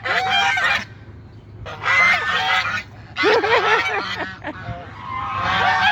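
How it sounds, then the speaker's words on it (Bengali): Ducks give loud, harsh honking calls in four separate bursts, close by with only low background noise between them. "ওই দেখছো হাঁস"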